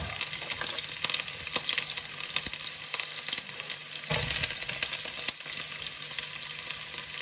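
Onions frying in a hot pan give a steady, fairly loud sizzle with scattered crackles and a brief stir partway through, with no talk over it.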